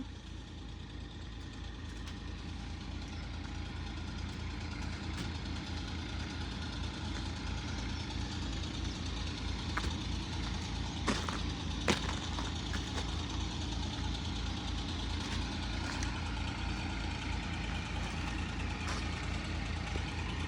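Tractors idle at the Amaravati Iconic Towers construction site during water removal, a low, steady mechanical rumble with a regular throb, fairly quiet and distant, with a few faint clicks and knocks scattered on top.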